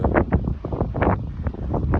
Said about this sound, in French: Bon, il y a du vent un petit peu.